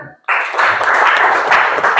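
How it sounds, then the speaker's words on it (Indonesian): Applause breaks out suddenly after a brief quiet moment, a dense, steady clatter of many hands clapping at a lecture, sustained at full strength for the rest of the moment. "Tepuk tangan."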